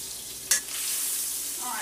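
A Cornish hen browns in a hot, lightly smoking pan, a steady bright sizzle with a sharp crackling burst as it hits the fat, then continued frying hiss.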